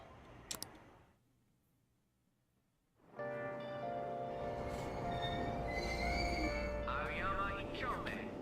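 A Persona 5 Royal subway train sounds out: after a brief click and a near-silent pause, a loud, steady rolling rumble begins, with faint metallic squeals riding on top.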